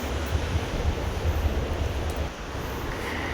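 A steady roar of ocean surf at Bakkhali beach rolls on continuously, with large waves blended with blustery wind noise and no voices.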